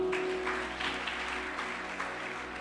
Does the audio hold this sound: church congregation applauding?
yes